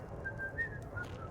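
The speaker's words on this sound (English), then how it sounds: "Got some beautiful whistling." A faint, thin melodic whistle drifts in the background of a Skyrim game scene, a few soft wavering notes over a low ambient hum with no talk.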